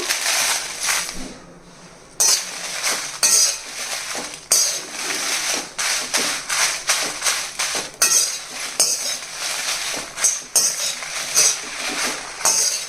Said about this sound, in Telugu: ఇప్పుడు మిరపకాయలు వేగించాలండి